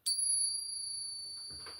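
A worn 90% silver US dime pinged once gives a bright, sustained metallic ring that starts sharply and hangs on with a slow, steady decay through the whole moment. Faint handling noise comes near the end, and no one talks.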